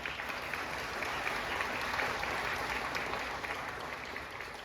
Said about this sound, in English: So nice round of applause to them